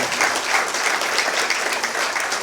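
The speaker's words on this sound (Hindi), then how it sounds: "जोरदार तालियां बजाएंगे" Loud, sustained applause from a seated audience at a social service event, with many hands clapping in a thick continuous roar that holds strong and then cuts off abruptly.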